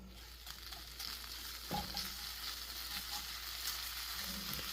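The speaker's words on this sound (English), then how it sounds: "you want to brown up your meat for your tacos" Carnitas meat for street-style tacos frying and browning in a hot pan, a steady close sizzle with a faint clatter or two of utensils and no talking.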